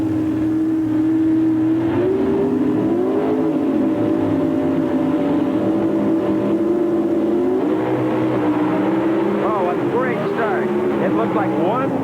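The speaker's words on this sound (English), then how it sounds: "The motors come up." Two drag racing cars at a 1993 NHRA national event build up engine revs at the starting line, a steady loud roaring drone with rising pitch sweeps toward the end.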